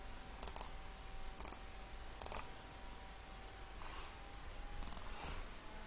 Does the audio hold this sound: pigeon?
no